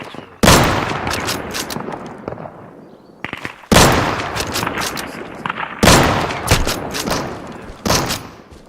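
Shotgun blasts from a double-barrel in the game Deadside, three loud, booming reports spaced a few seconds apart, each followed by a rattling tail of echo and smaller cracks.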